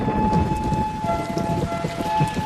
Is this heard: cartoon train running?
no